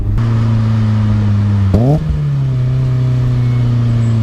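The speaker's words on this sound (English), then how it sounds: "I love the little blip it makes when you do a downshift." A steady BMW M3 E30 engine hum, then a quick rising rev-match blip on a downshift around midway before settling back to a smooth drone; close and fairly loud.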